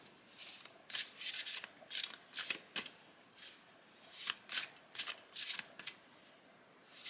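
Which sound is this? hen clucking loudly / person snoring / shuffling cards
shuffling cards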